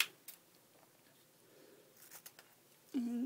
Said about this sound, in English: And just cut it.